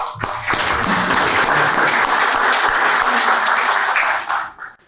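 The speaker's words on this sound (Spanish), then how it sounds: "Así que lo despedimos con un aplauso." An audience at an academic ceremony on Argentina–Israel relations breaks into sustained applause, a loud, even wash of many hands that holds for several seconds before tapering off at the end.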